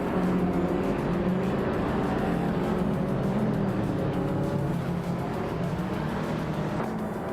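Engines of race cars, led by a 2026 Vauxhall Astra VX, roar steadily at the Autodromo de Franciacorta start in a racing game, a dense continuous drone of revving motors with no talk.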